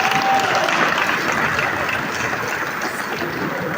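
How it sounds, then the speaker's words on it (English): Audience at the Lagos Real Estate Market Place conference applauding the governor, a dense sustained burst of clapping that starts strong and eases slightly while continuing to the end. "you will please help me applaud Mr. Governor"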